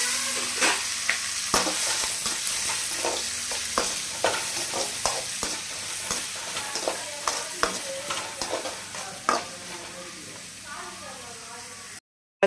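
Onions and green chilies fry in a pan as they turn golden, a constant crackling sizzle overlaid by frequent rhythmic scraping strokes of a stirring spoon, ending abruptly.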